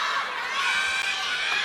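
A crowd cheering at a table tennis match between WANG Chuqin and FENG Yi-Hsin at the ITTF-ATTU Asian Cup in Haikou, a loud, sustained roar of shouts and applause filling the hall.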